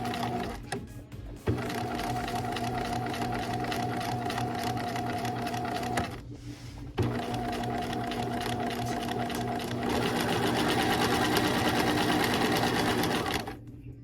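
Sewing machine stitching quilt pieces made with dryer sheets, running in long steady bursts of rapid mechanical whirring with a short stop partway through, close and loud.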